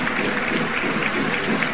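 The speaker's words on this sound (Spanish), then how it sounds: "Merecido el aplauso y el homenaje al capitán." A handball arena crowd in Valladolid stands and applauds in tribute to the team captain, a dense, steady wash of clapping filling the hall, loud and sustained throughout.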